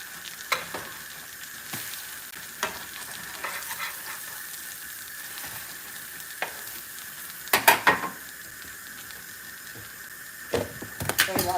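A pancake fries in butter in a pan with a soft, steady sizzle, broken by occasional utensil clicks and scrapes against the pan.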